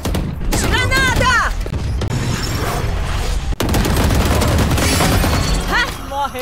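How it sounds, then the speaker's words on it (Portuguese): Grenade blast and gunfire in the tactical shooter Valorant, sharp bursts and booms packed densely over a continuous loud game mix, with voices talking throughout. "Granada!"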